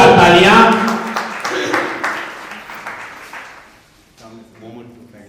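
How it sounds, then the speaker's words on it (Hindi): Loud audience applause at a chariot festival (Rathyatra) in Rajnagar Extension, Ghaziabad, with dense clapping at the start that fades over a few seconds before a voice speaks at the end. "पंकज जी के लिए जोरदार तालियां"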